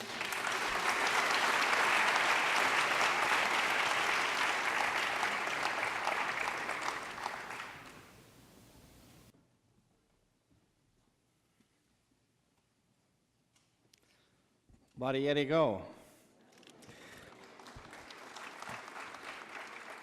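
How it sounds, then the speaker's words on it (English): Audience applause at an Armenian Genocide commemorative event: a long, loud burst of clapping that fades out, then near silence, a brief voice, and clapping resuming more softly toward the end. "Let's give a round of applause"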